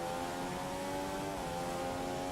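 A Formula 1 car in the F1 2015 racing game, at the Italian round, holds a steady, high engine whine that shifts pitch slightly partway through and stays up to speed.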